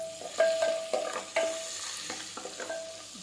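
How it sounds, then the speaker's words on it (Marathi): Whole spices including bay leaf, cinnamon, black pepper, cloves, cardamom and caraway fry in hot oil for an egg pulao, a soft crackling sizzle with repeated close clinks and scrapes of a spoon stirring. "दालचिनी मिरे लवंग वेलदोडे आणि शहाजिरे व्यवस्थित फ्राय करून घेऊ"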